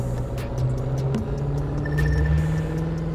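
Car engine droning steadily while driving on a highway in The Crew 2 racing game, a continuous low hum with a faint rising whine and no talk.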